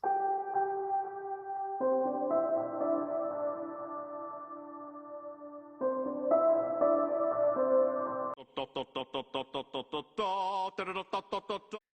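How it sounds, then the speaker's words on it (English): Lo-fi piano passage with EQ filtering, mellow sustained chords that shift between a few voicings, followed by a brighter, rhythmically chopped stretch of staccato stabs near the end; no voices. "I just have the piano filtered with an EQ,"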